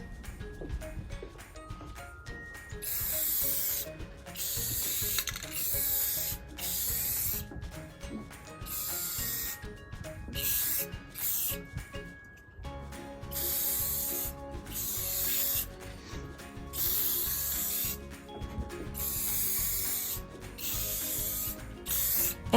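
Rust-Oleum Ultra Cover matte clear coat sprayed from an aerosol can onto an industrial-style bar stool, long hissing bursts broken by short pauses, with rattling and clicking handling sounds between them, close and fairly steady.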